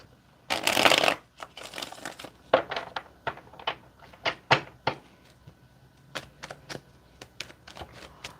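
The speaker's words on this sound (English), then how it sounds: "Let me get two more shuffles here." A deck of tarot cards is shuffled in a series of quick riffling bursts, one longer burst followed by shorter crisp flutters and taps, close and fairly quiet.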